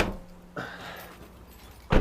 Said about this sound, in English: Pop the bonnet.